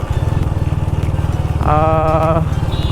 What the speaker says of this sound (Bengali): শব্দ শুনে ভাবতেই পারতেছেন যে এটা কি এক্সস্ট আর এটা লাগাইছি অ্যাক্রোমবিকের একটা এক্সস্ট